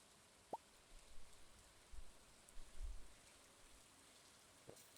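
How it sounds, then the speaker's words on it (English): Rain falls in Stardew Valley, heard as a faint, soft patter with a few scattered drips and plops, quiet throughout. "especially when it's rainy weather like this, you just kind of get to sit here and stop that and enjoy the sounds of the rain"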